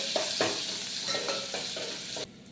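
Curry leaves, onion and asafoetida fry in hot oil for a dal tadka, making a continuous close sizzle broken by several soft stirring scrapes. The sizzle cuts off abruptly near the end.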